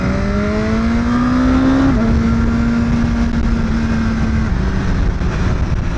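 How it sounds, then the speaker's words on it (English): A BMW S 1000 R motorcycle's exhaust drones steadily while riding, a held engine note that drops in pitch after a gear change, with constant wind rush over it and no talk. "I don't know if you can hear the exhaust. It's not a bad exhaust."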